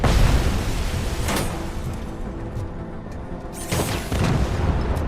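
Explosions in the RoboCop video game: broad, rumbling booms, loudest near the start and again toward the end, with a steady low roar of battle filling the gap between them.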